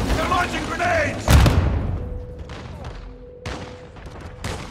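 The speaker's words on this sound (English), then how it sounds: "They're launching grenades!" Video game firefight with grenade launches and gunfire: a loud burst of shots and heavy booms opening the clip, then scattered thuds and pops fading into quieter reverberant battle noise, with no talk.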